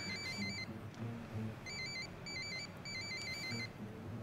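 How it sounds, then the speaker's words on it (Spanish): A telephone rings in the room next door, heard through thin walls: repeated bursts of a trilling electronic ringtone in a regular on-off pattern. The ringing is moderately faint over a low room hum. "¿Está sonando un teléfono en el armario?"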